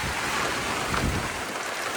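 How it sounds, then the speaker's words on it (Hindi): Hailstones pour down during a stormy, cold spell, a dense, steady roar of pelting impacts with a low rumble underneath, loud and continuous throughout without any talking. "ये देखें भाई साहब, तूफानी ओले पड़ रहे हैं"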